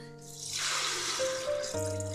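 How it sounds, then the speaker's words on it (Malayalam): Water is poured into a pot of rice for vegetable pulao, a close, continuous splashing fill with a rising gurgling tone. "അതുകൊണ്ട് നമുക്ക് 3 കപ്പ് വെള്ളം ചേർത്ത് കൊടുക്കാം."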